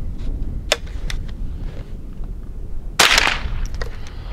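A Henry AR-7 survival rifle fires a single sharp report about three seconds in over steady outdoor background noise, with a few faint clicks and taps before it.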